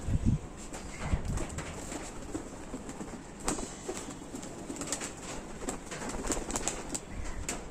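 Pigeons in a loft fluttering and cooing as they are caught by hand for a bath, with soft wing flaps and scuffles close by over a steady background hiss.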